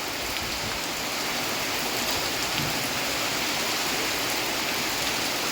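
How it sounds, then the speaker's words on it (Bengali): A heavy downpour pours steadily without pause, a dense, even roar of rainfall close by with no voices. "মুসুলধারে বৃষ্টি নেমে গেল"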